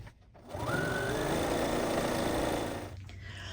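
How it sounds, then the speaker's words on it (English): A household sewing machine runs a straight line of stitching about 1/8 inch from the edge to hold down quilt binding on a quilted mat; a close, steady motor whir lasts a couple of seconds, with no talking. "I just do that straight line of stitching about 1/8 of an inch from the edge just to hold it down"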